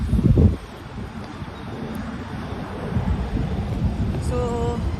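Steady wind rushes and buffets across the microphone, with a brief louder gust at the start and a faint whine near the end.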